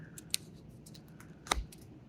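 Origami paper being folded over at an open edge, giving two sharp, crisp creasing snaps about a second apart with faint rustles between, close and quiet with no voices.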